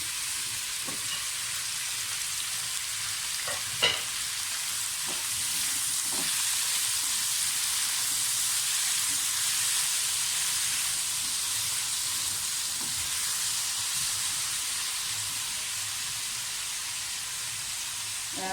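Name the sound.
frying tomatoes and green chillies in a pan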